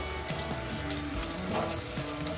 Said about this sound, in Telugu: అల్లం వెల్లుల్లిపాయ పేస్ట్ వేశాక పచ్చివాసన పోయేంత వరకు ఫ్రై చేసుకోవాలి